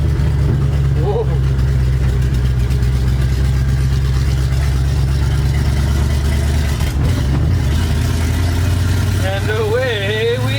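A 1973 Dodge truck with a bad carburetor pulls away on a hill, its engine running loud and steady throughout with shifting revs, while voices talk over it.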